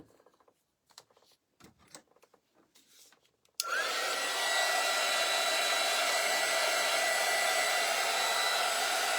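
A hair dryer switches on abruptly after some light tapping and handling noises and blows in a steady, loud, close whoosh while drying a craft cutting board with a painted sunflower.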